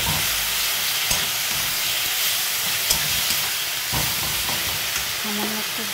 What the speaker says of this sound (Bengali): এর মধ্যে দিয়ে দেবো আদা রসুন বাটা, দিয়ে সম্পূর্ণ মশলাটাকে ভালো করে নাড়াচাড়া করে কষিয়ে দেবো